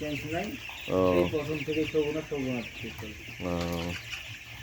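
Broiler chickens cluck in short, irregular bursts nearby on a farm, with a person's voice mixed in among the birds.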